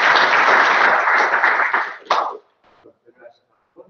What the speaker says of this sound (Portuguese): eu gostava de dar uma salva de palmas à organização.